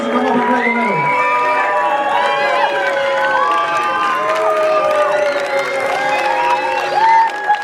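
A large crowd at a youth football cup final cheers and applauds continuously, with whoops and shrill whistling rising over a steady roar of clapping.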